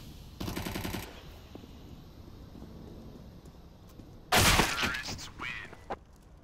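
Automatic gunfire in Counter-Strike from a Mac 10 and an AK-47, two sharp rapid bursts separated by a lull, the second louder and followed by scattered shots, under a faint background of match commentary.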